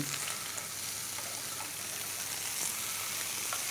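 Fish skin sears in a hot pan with a loud, continuous sizzle and crackle, close and steady, with a few brighter pops and no voices.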